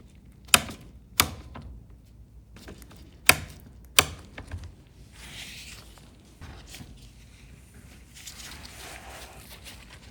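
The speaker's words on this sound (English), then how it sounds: "set the adjustable torque driver to 13 Newton centimeter and reinstall the 2 3 IP screws that attach the fan to the heat sink" Adjustable torque driver set to 13 newton-centimeters tightens the two screws holding a fan to the heat sink inside an M4 Pro Mac mini (2024), giving a few sharp close clicks early on, then softer scraping handling noise.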